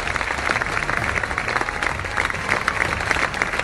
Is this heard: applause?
yes